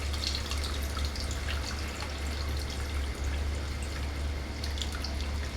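Tamarind pulp squeezed by hand in a bowl of water for a fish stew, giving soft, continuous wet squelching and dripping over a low steady hum, close and fairly quiet.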